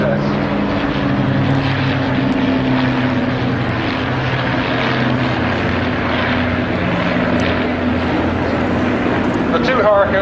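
A Hawker Hurricane propeller fighter from the Battle of Britain Memorial Flight roars steadily overhead at the Goodwood Revival, a loud, continuous engine drone sustained throughout with a commentator talking over it.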